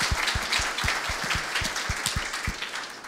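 An audience at a TriboSlam tribology talk claps in a steady, dense round of applause, with many individual hand claps standing out close by throughout.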